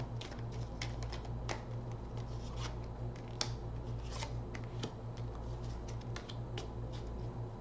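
Tarot cards riffle and flick through a shuffle, a series of quick papery snaps over a steady low hum, close and fairly quiet.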